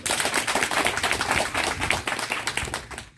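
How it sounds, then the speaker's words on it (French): Applause breaks out from a crowd at a community gathering in Sotouboua, Togo: dense, fairly loud clapping that runs steadily for a few seconds, with no speech. "Je vous demande d'applaudir les deux, s'il vous plaît."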